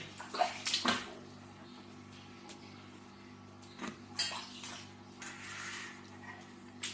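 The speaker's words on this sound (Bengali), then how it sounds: "ফলগুলোকে আগে ধুয়ে নিচ্ছি জলে" Fruit such as apples, guavas, cucumbers and bananas being washed in water, with soft splashes and sloshing, a few sharp knocks against a container, close and fairly quiet.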